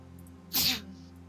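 A single sharp sneeze bursts out close by, brief and clear against a quiet room.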